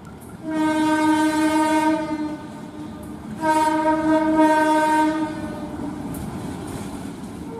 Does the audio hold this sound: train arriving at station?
yes